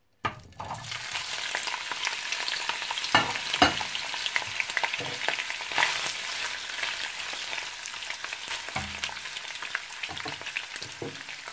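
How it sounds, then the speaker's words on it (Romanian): Boiled chicken gizzards fry in four spoonfuls of oil in a pan for a Romanian gizzard stew, a steady crackling sizzle starting suddenly and continuing with occasional stirring scrapes and pops, no talking. "Într-o tigaie am pus 4 linguri de ulei. Voi pune pipotele fierte."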